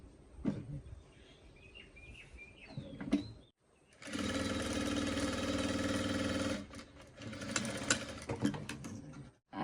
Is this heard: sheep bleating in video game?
no